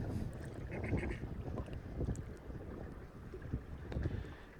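A sailboat sails along toward Sandy Point, with soft water wash and gusty wind rumble against the microphone. The sound is quiet and steady, with faint occasional creaks and no voices.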